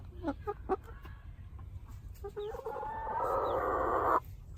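Ameraucana chickens in a backyard give several short, close clucks, followed by a louder, drawn-out squawking call that holds for about a second before cutting off.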